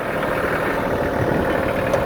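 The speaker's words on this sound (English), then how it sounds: "I'm gonna jump off this noisy tractor in just a bit." A tractor idles close by on a homestead being graded, a steady rough mechanical rumble with no change in pace, loud and continuous with nothing else over it.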